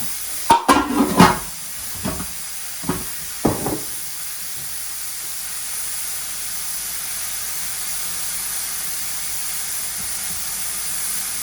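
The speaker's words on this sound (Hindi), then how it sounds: "तो हम इसमें अब पानी डालेंगे, थोड़ा सा, ज़्यादा नहीं डालेंगे" Water poured into a pot of browned onions for mutton pulao hisses and sizzles in a few sharp bursts, then settles into a steady quiet steaming.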